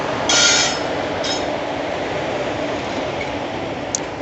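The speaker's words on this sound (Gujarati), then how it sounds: "એક્સપ્રેસ આવી ગઈ છે, પોરબંદરથી રાજકોટ ડેઇલી એક્સપ્રેસ વેબ 4 સાથે." Porbandar–Rajkot daily express hauled by a WAP-4 electric locomotive rolling past, a steady broadband rumble of wheels and coaches with a few brief metallic squeals and clinks near the start and end.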